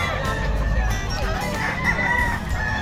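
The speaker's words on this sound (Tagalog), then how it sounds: "Tingin tayo mga manok dito." Chickens and fighting roosters at the Bocaue, Bulacan pet market crow and cluck together in overlapping calls, several birds nearby over a busy low background rumble.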